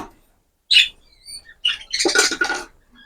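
Pet birds in a homemade breeding cage give a few short, bright chirps and tweets, spaced apart at first and then a busier cluster of calls, close and fairly clear against an otherwise quiet room.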